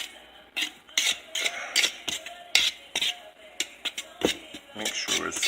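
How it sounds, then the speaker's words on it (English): Sugar, flour and salt for pizza dough whisked in a bowl, a quick series of close rattling strokes in an uneven rhythm. "I'm just gonna whisk this around"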